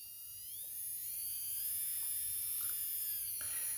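A small high-pitched manicure nail drill, a MediPower professional model, whirs steadily without its dust extractor running, its motor pitch shifting slightly as speed changes, with faint clicks underneath.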